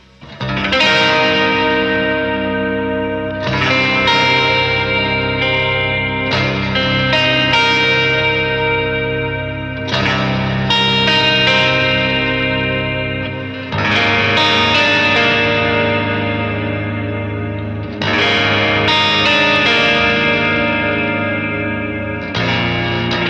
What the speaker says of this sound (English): this will be the fifth position, which is going to be the full neck pickup